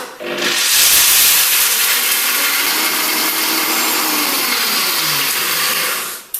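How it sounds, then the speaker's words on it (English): A high-speed blender grinds loudly and continuously for several seconds, a harsh whirring roar that starts abruptly and cuts off at the end. "if you've got a high-speed blender you just whack it on"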